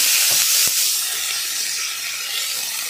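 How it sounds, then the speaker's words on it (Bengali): Cut carrot and potato hiss in a hot frying pan, a loud continuous sizzle with a couple of quick knocks near the start, then a steady fizzing wash. "এটা এখন ভাজা ভাজা হবে।"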